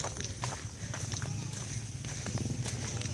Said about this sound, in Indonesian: Ini sapi yang baru dilepas.